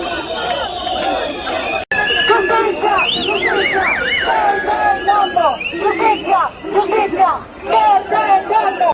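A massive protest crowd fills a historic piazza in Milan, roaring and chanting with whistles and sirens wailing over the din; the noise is loud and continuous, with a brief cut near the start.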